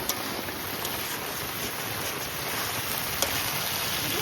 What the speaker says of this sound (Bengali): ভাবলাম বৃষ্টিটা মনে হয় গেল, তা না আবার এসে গেছে।